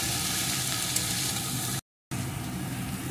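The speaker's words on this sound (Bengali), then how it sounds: "এখন লাউটাকে সমানে এইভাবে নেড়ে নেড়ে মশলার সাথে সুন্দর করে কষিয়ে নেব।" Bottle gourd is stir-fried with spices in a pan over medium-low heat, giving a steady, dense sizzle that cuts out for a moment before resuming just as strong.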